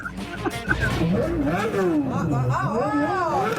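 A voice imitates a car engine up close, with loud revving tones that swoop up and down in pitch.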